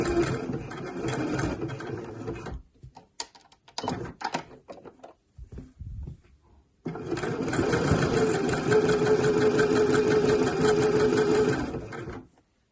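A domestic sewing machine runs in two steady stitching bursts while hemming the narrow cuffs and hem of a t-shirt, loud and close, separated by brief pauses with small handling clicks.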